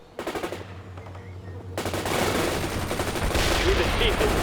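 Rapid machine-gun and rifle fire crackles through a World in Conflict battle, opening with short bursts and then swelling into a dense, sustained barrage of overlapping shots.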